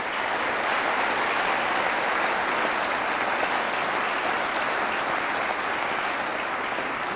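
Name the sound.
applause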